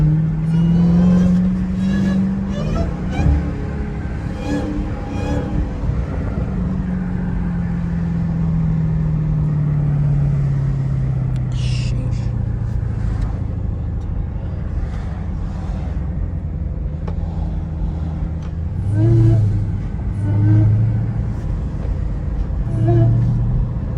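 A Dodge Hellcat cruising through a wealthy neighborhood, its engine a continuous low rumble that swells and eases as it revs, heard from inside the car.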